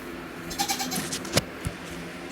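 Goats bleat on a farm, several short calls in a row at middling distance, with one louder bleat near the end over a faint rural background.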